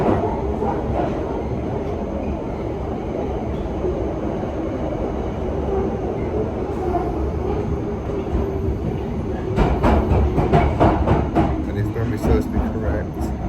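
A London Underground Piccadilly line train running through tunnels, a steady loud rumble and rail clatter that grows busier with sharp clicks toward the end.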